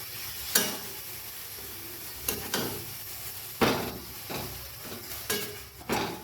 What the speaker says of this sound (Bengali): এবার আমি ভালো করে নাড়িয়ে চালিয়ে চিংড়ি মাছটা এর সাথে মিক্স করে দেবো।